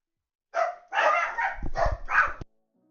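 Pet dogs in a home let out a close burst of excited, yappy barks and whiny yips lasting about two seconds, with no talking.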